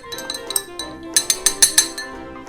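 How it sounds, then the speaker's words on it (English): A spoon stirs a rum grog cocktail in a glass to dissolve sugar, producing a run of bright clinks against the glass, sparse at first and then a quicker rhythmic series of five or six close, ringing taps. "Now, I'm going to stir this until the sugar dissolves."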